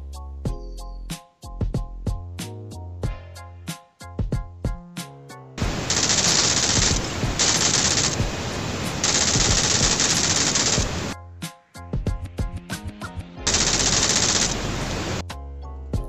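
Automatic gunfire rips through a BGMI mobile battle royale match in two long, loud, continuous bursts, with tonal music playing in the gaps.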